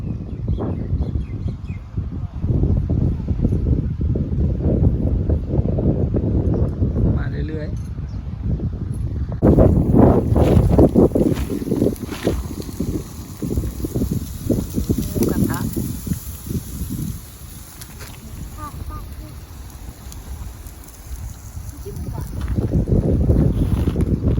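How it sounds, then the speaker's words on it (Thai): Strong wind on a beach campsite at Hat Chom Phon buffets the microphone in a constant heavy roar, with people talking over it. "ลมแรงมากเลย"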